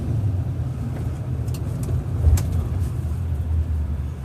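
Road traffic heard from inside a moving vehicle as a bus passes nearby: a constant low engine and tyre rumble with a brief swell midway, no talking.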